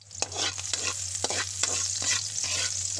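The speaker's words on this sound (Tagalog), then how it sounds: "Pasugin muna natin yung ating sibuyas at bawang." Onion and garlic sautéing in a pan, a crackling sizzle broken by repeated rhythmic scrapes of a spatula stirring, close and clear with a low background hum and no talk.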